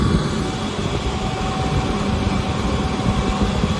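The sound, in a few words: fuel truck pumping fuel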